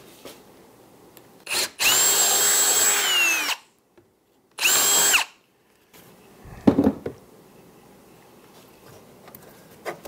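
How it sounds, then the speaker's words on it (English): A power drill bores a 5/16 hole in wood for a threaded insert, with two loud whining bursts that rise in pitch, then a pause and some knocking and handling noise. "we're going to just put the drill in like so"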